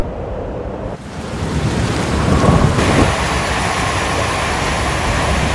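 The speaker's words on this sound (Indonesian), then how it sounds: "hujan turun bersama petir yang menggelegar" Steady heavy rain pours at night with a deep rumble of thunder swelling in around the middle, loud and continuous with no voices.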